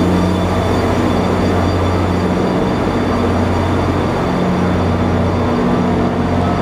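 An NJ Transit main line train with a Jeep 40FH-2 locomotive, number 4901, sits close by, its steady engine drone and low hum continuous and loud, with faint rail rumble and no talking.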